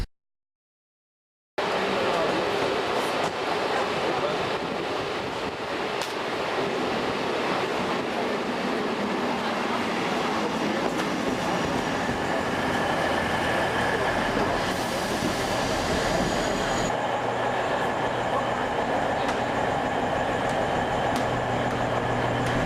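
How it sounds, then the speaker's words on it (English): Steady rumbling and whooshing of a train at Ghent Sint-Pieters railway station, sustained throughout after a brief silence, with a faint high squeal partway through. "We are at the railway station, Ghent St. Peters."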